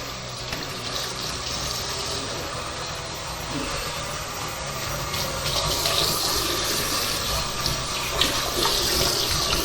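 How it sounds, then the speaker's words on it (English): Running water pours steadily from a tap while a one-foot squid tube is rinsed out, a continuous close splashing hiss that grows slightly louder, with no talk. "we're going to wash out the tube"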